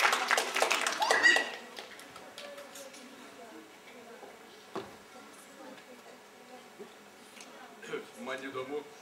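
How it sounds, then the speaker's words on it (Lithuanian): An audience claps at a theatre play, a dense burst of applause in the opening two seconds that quickly dies away into a quieter room with occasional taps and a speaking voice. "plojimas"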